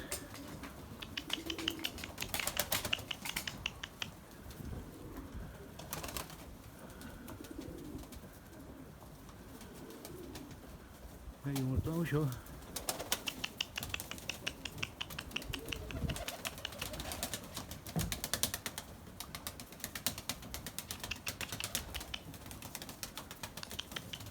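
Erzurum white breeding pigeons coo softly and repeatedly in a loft, with quiet tapping and rustling around them and no voices.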